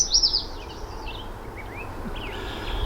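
A little bird in a tree gives a quick high chirping burst, then a few faint, scattered thin calls over quiet outdoor background.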